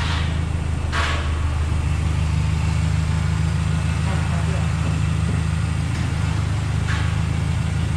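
A 2006 Proton Savvy 1.2i engine idles steadily just after start-up while excess oil burns off at the back, giving a continuous low rumble throughout with faint voices in the background.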